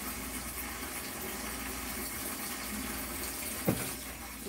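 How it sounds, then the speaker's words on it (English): Warm water runs from a kitchen tap as a soft, steady hiss, with a single brief knock near the end and no talking. "I just let the tap run, or you can grab some from here."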